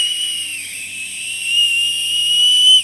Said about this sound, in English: you have yourself a whistle. It might even be a bear whistle